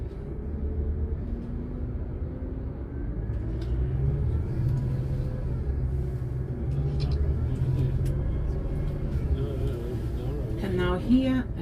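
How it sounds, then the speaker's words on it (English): Cars drive through a traffic light in Milan, Italy, with a low, steady engine rumble and passing traffic heard beneath people talking and a brief clatter near the end. "at this traffic light, you see we have cars driving to the left hand side and to the right hand side"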